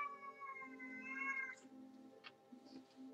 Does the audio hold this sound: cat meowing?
yes